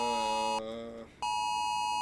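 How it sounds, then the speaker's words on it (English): Phone Amber Alert tone from a video game: a loud, steady electronic beep that holds, dips and breaks off briefly, then sounds again at full strength, alone with no talk. "An Amber Alert."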